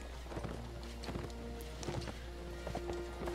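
A horse gallops downhill in the Mount & Blade: Warband video game, its rapid hoofbeats clattering steadily, close and clear, over a low rumble of battle ambience.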